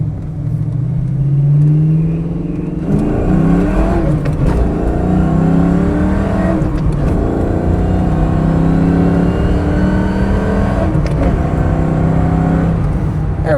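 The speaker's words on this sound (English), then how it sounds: "Has a really good exhaust note to it as well. Does have full aftermarket exhaust." A 1993 Ford Mustang LX coupe with a 5.0 V8, five-speed manual, off-road H-pipe and Flowmaster exhaust pulls hard through the gears, loud and close from inside, the engine note rising and dropping at each shift.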